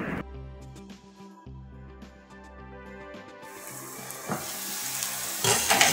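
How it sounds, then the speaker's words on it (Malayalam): Prawn dry roast with masala, chemmeen coated in spice paste, sizzles in a pan as it is stirred, the frying growing louder and hissier in the second half over faint background music. "കുറച്ച് സമയം കൂടി നമുക്കിതിനെ ഒന്ന് ഇളക്കിയിട്ട് വേവിച്ചെടുക്കാം."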